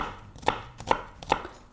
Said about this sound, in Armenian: Ուզում եմ սոխը կտրատել